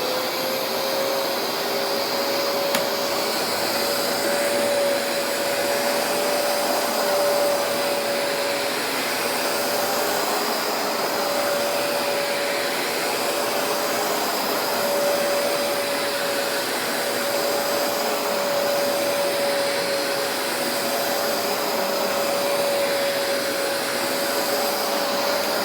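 Vacuum cleaner runs continuously over carpet, a loud steady whine with a constant motor tone that holds unbroken throughout, close by and without voices.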